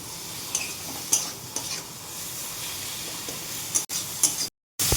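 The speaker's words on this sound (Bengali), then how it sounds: "পেঁয়াজ রসুন, কাঁচা লঙ্কা এগুলি সবগুলি কষাতে থাকবে। একটু পর নাড়া দিয়ে দিয়ে কষাতে থাকবে।" Onion, garlic and green chili sauté in a pan under repeated stirring, a steady close sizzle broken by scraping strokes, with a short silent gap near the end.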